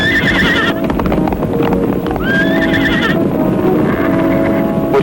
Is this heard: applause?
no